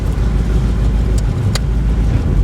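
A 1932 Ford three-window Deuce Coupe pulls away with a loud, close engine roar, a steady low rumble under load.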